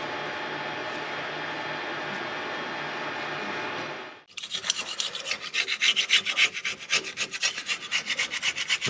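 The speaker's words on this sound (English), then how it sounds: "cleaning the back axle differential housing out with the brake cleaner at the moment" Brake cleaner spraying into the back axle differential housing of a Fiat Panda 4x4: a steady loud aerosol hiss for about four seconds, then abrupt rough scrubbing and rubbing strokes in a quick irregular rhythm, close up.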